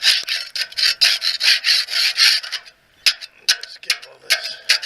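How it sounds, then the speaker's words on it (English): A flimsy scraper scraping residue off a trailer wheel hub: loud, close, rasping strokes, quickly repeated in a steady rhythm, then a brief pause and a few sparser scrapes. "I'm gonna have to scrape it first. All I could find was this flimsy scraper, but this should work."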